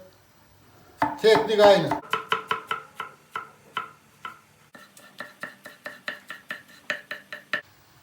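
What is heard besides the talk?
finely chopping tomatoes with a knife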